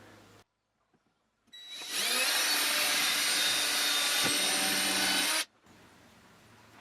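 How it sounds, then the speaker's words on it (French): A drill with a wood bit and countersink bores into a wooden plate for a tool display rack, a loud, steady motor whine with grinding that starts abruptly, holds for about four seconds, then stops, with quiet room tone before and after. "je vais utiliser un forêt bois évidemment avec une fraise"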